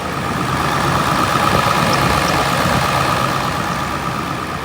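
A diesel pickup truck's 7.3 Powerstroke engine idles steadily with a deep, continuous rumble, close and loud, with no speech.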